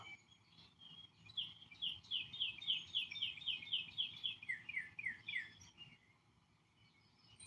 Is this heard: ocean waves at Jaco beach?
no